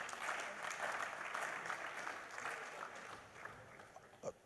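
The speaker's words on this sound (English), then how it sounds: "please give yourself a beautiful round of applause" Audience applause at the opening of a big data platform panel session, a steady wash of clapping at moderate distance that thins out toward the end, with a brief knock at the close.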